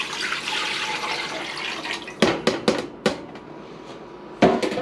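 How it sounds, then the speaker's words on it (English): Six cups of water are poured into a pot for mac and cheese, a rushing splashy pour broken by several sharp knocks and bursts as each cup empties. "we're going to go ahead and put in 6 cups of water"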